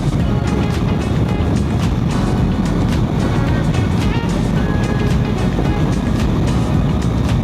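A motorcycle rides along a road, heard as a loud, constant wind-blasted roar with faint engine texture throughout and no clear talk.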